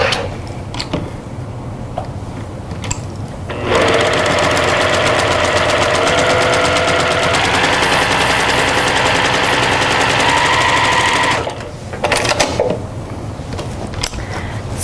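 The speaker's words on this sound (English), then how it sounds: "we're going to sew directly on the line just like we did before" A sewing machine runs a continuous seam along a marked line through pinned fabric for a quilting project, a loud, even, rapid mechanical whirr lasting several seconds, with quieter handling sounds before and after.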